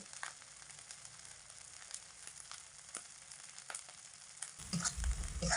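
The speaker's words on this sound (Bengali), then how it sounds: "তো মিডিয়াম আঁচে রেখে মশলাগুলোকে মোটামুটি 2 মিনিট সময় মতো একটু কষিয়ে নেব।" Spices with salt and turmeric sizzle quietly in a pan over medium heat, a faint steady crackle that grows a little busier toward the end.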